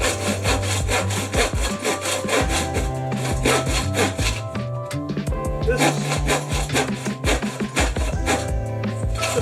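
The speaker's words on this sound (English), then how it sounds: "It's almost like cutting through hardwood." A saw cuts through tough hardwood, with fast, even rasping strokes that repeat loudly and close up, broken by a short pause midway.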